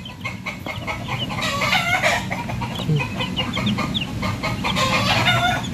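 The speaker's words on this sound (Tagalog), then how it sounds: "1-week-old game fowl chicks and Rhode Island Reds." Week-old game fowl chicks and Rhode Island Red chickens on a small farm cluck, peep and crow close by in a busy, continuous chorus.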